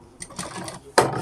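A sewing machine stitching the fly of a half-elastic pant, heard in short mechanical bursts: a few faint whirring runs, then a louder, closer burst near the end, with no talk.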